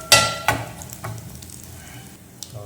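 Curry leaves and chana dal crackle in hot oil for pepper rasam, a few sharp spattering pops near the start and end over a faint sizzle, with no talking.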